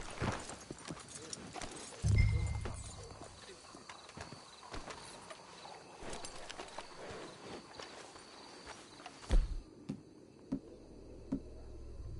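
Horse hooves clip-clop at a steady walking pace through a game soundscape, with a low thump early on and quiet ambient noise throughout.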